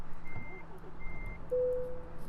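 Reversing beeps from a truck in Euro Truck Simulator 2 sound as a few faint, spaced electronic tones over a low engine drone.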